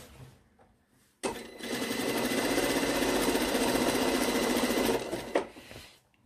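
Sewing machine stitching a long seam along skirt fabric: after a quiet start it runs in one steady, fast, close rattling burst for about four seconds, then stops, followed by a few faint handling noises.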